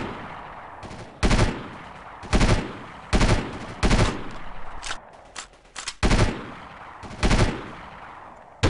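Bursts of automatic gunfire from the video game Delta Force 2, loud close rattling volleys of one to several seconds each separated by brief quieter pauses, with no talking.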